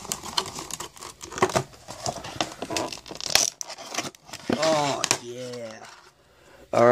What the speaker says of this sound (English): Now just the plastic. So let's just go ahead and pull that out.